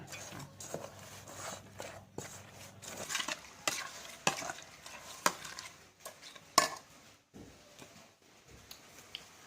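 A spoon or ladle stirs a mix of fish sauce and water in a pot, giving close, irregular scrapes and clinks against the metal with soft sizzling underneath.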